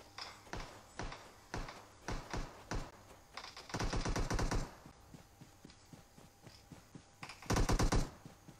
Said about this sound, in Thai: เสียวมันยิงตูดเนี่ย